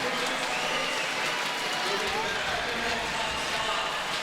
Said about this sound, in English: crowd is fired up for Rayssa